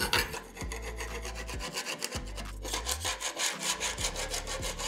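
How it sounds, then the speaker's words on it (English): Old caulking being scraped off a wall in a small entryway, a harsh rasping drag repeated in short back-and-forth strokes, close and loud with no speech. "this is the worst part of this process. Scraping off all of the caulking."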